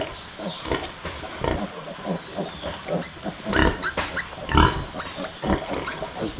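A sow nursing her litter of piglets: repeated close grunts and squeals in irregular bursts, growing louder and busier toward the end.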